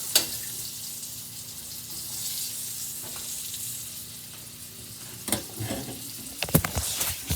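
Salmon fillets searing in a hot pan give a steady, moderate sizzle throughout, with a few sharper crackles and pops near the end.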